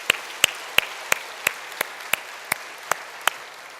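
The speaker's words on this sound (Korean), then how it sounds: "박수 한번 크게 해주시고요." Applause in a church congregation during a Sunday service, heard as a close run of about eleven crisp, evenly spaced claps over a faint, hushed room background.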